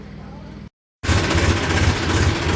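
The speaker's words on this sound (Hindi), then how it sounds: "पीछे हटाते हैं ट्रैक्टर को" A tractor engine gives a loud, steady rumble with a low throbbing idle as it reverses, starting abruptly after a brief silence and running continuously close by.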